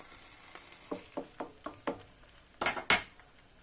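Metal utensils clink and scrape against a paella pan in a series of short strikes, with a faint sizzle of frying under them.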